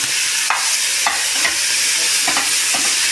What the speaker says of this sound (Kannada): ಟೊಮೊಟೊ ಹಾಕ್ತಾಯಿದ್ದೀನಿ. ಟೊಮೊಟೊ ಎಣ್ಣೆಲಿ ಫ್ರೈ ಆಗಬೇಕು.